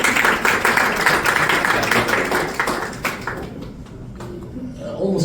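An audience applauds international organizations at a talk by a Bangladeshi envoy, dense clapping that gradually thins out and fades toward the end.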